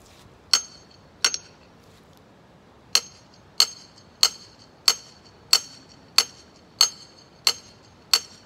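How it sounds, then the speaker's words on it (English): Sharp metallic clangs of a hammer striking a steel generator grounding rod, about eleven blows with ringing decay, evenly paced after a short pause. "But I still don't want to miss when I strike with the hammer."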